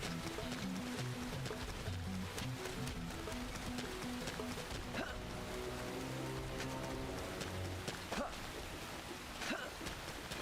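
Rain falls steadily in the Xenoblade Chronicles X game world, a dense even patter under quiet game music with occasional soft thumps and taps, while someone talks over it.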